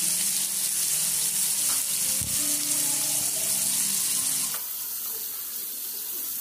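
Marinated chicken pieces fry in hot oil in a kadai, a dense, close sizzle with crackling bursts and some stirring, easing slightly quieter toward the end.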